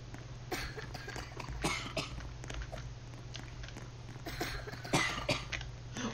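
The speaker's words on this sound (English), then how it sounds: "people are coughing real bad" Roblox characters coughing from a virus in-game, a series of sharp separate coughs and throat-clearing bursts scattered over a low steady hum, some louder and closer than others.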